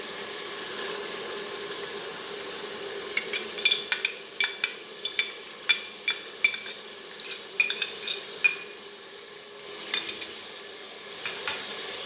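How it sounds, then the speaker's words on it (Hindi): Beef being stir-fried with yogurt in a pot, with a steady low sizzle under a run of sharp metallic spoon scrapes and clinks against the pot, irregular and clustered in bursts. "अब व्यूअर्स हम इसमें दही डाल के इसको अच्छे तरीके से भूनेंगे"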